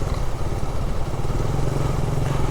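A motorcycle cruising on a smooth road, its engine droning steadily and loudly up close with a low rumble and wind, no speech.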